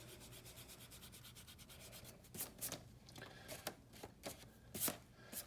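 A pencil eraser rubs back and forth across a dark still-life sketch on paper, faint scratchy strokes that come in quick bursts, growing stronger partway through, with no talk.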